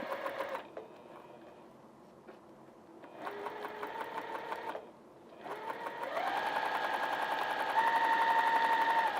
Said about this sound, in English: Now let's sew that down.